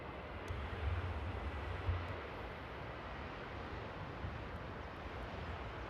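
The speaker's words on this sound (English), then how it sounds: "There we go, Sky Express coming in from Greece." A Sky Express airliner arriving at Paris Charles de Gaulle makes a steady, faint broadband jet roar that holds evenly throughout, with a low rumble swelling slightly early on.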